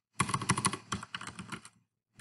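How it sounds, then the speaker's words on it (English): Computer keyboard typing in a quick burst of close, crisp key clicks with uneven rhythm, slowing and fading after about a second and a half, then stopping. "when we start typing"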